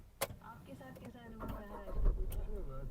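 Three-cylinder CNG engine of a 2025 Tata Tiago XT cranking and catching, a brief starter burst followed by a rough, vibrating idle close by, with voices talking over it.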